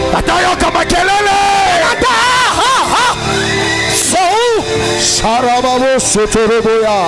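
A church congregation shouting and yelling loudly during an energetic worship service, voices rising in bursts and whoops over a continuous dense wash of crowd noise and amplified sound.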